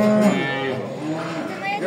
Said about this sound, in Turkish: yaklaşık 900 kilo civarı ithal simental inek